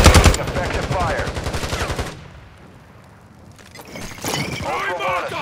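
Rapid automatic gunfire bursts in the Call of Duty Warzone 2 DMZ video game, loud and close, with a brief lull before the shooting resumes under game voice callouts.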